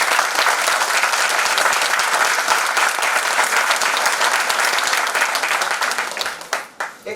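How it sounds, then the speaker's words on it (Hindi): An indoor audience at a business training meeting applauds first-time attendees with a sustained wash of dense clapping that holds steady, then thins out and fades to a few scattered claps at the end. "ताली बजाइए इन लोगों के लिए"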